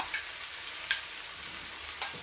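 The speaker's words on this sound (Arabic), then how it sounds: "ونبقى نحرك باش هذيك البنه تاع الطون تدخل كامل في هذوك لي ليغوم هكذا" Canned tuna in its own oil is stirred into vegetables in a pan: soft, quiet scraping over a faint sizzle, broken by a few light clicks.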